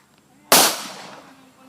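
A single sharp gunshot from a firearm at a shooting range, loud and close, cracking suddenly out of near silence and trailing off in a short echoing decay.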